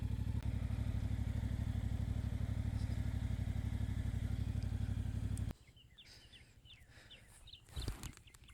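A motorcycle engine idles loudly and steadily nearby for several seconds, then cuts off, leaving quiet outdoor ambience with faint bird chirps and a few thumps.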